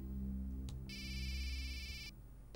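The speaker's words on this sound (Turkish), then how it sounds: "Çalıyor. Ha, çalıyor." A mobile phone rings behind a closed door, a steady electronic ringtone lasting over a second amid low room noise, preceded and followed by faint clicks.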